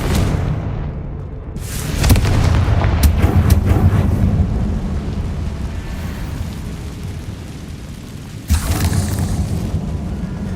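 Confringo explosion spell cast in the video game Hogwarts Legacy: a loud booming blast followed by a long rumbling roar, with a second burst near the end against steady game ambience.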